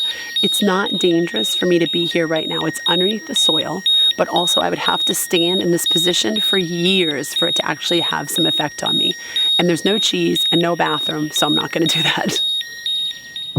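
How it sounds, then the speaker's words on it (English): Radiation counter beeping rapidly over radioactive soil in the Chernobyl exclusion zone, a steady stream of high electronic chirps running under continuous close talking by a man. "So my counter is going off here because right in this spot, it's very radioactive underneath the soil."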